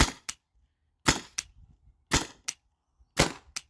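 Byrna TCR launcher fitted with a TiPX remote air line firing four times, each a sharp, loud pop followed by a quick snap, spaced about a second apart with short silences between.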